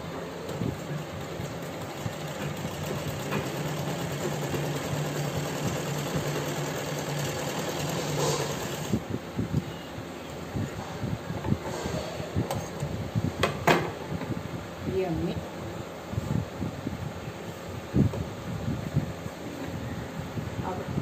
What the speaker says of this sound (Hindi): अब हम जो पॉकेट बनाई है उसके ऊपर सिलाई लगाएंगे।